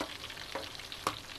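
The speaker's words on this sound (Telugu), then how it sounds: "ఇప్పుడు మన లాలీపాప్స్ ఎంతవరకు ఫ్రై అయింది అనేది చెక్ చేసుకున్నాం" Chicken lollipops frying in a pan give a steady, faint sizzle with a couple of brief clinks or stirring taps, no voices.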